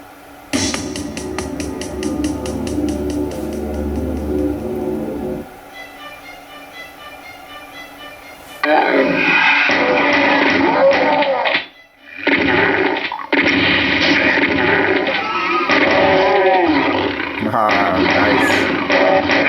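Doom game sound effects play through a retro PC sound card: a steady synthesized tone pattern at first, then loud bursts of crunchy effects and gunfire-like hits with brief gaps, with no talk over them.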